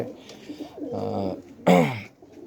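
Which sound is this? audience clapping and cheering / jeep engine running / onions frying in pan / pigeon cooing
pigeon cooing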